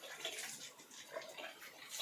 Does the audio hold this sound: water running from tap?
yes